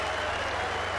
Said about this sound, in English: Clapped off, cheered off, and everybody in the crowd will be buzzing with excitement